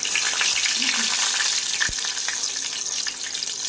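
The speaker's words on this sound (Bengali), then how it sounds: "আমার তেলটা গরম হয়ে গেছে, এবার আমি এই তেলে গোটা গরম মশলা দিয়ে দিলাম, একটু লাল লঙ্কা দিয়ে দিলাম" Whole garam masala and red chilli sizzle in hot oil, a steady close frying hiss with a single sharp pop partway through; no talking.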